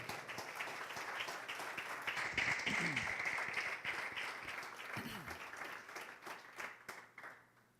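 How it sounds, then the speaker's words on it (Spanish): Church congregation applause during a sermon, a fairly faint but steady round of clapping that carries on for several seconds, with brief voices rising over it midway before the clapping tapers off. "Dale un fuerte aplauso al Rey."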